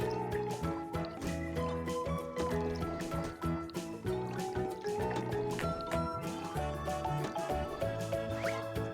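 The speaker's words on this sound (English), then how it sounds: "Pour liquid into the correct tank." Cartoonish liquid pouring into a tank and dripping, with bubbly squishes, from a car repair video game, layered over bouncy game music that plays throughout.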